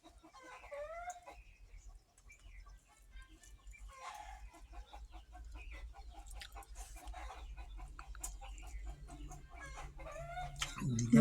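Chickens clucking in a home coop, a run of close, varied clucks and calls over a low background rumble, with a louder burst at the end.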